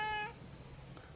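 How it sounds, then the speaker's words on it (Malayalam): A house cat gives a single short, clear meow that stops abruptly, followed by quiet room tone. "എപ്പോഴും ഇങ്ങനെ കരഞ്ഞുകൊണ്ടേയിരിക്കും."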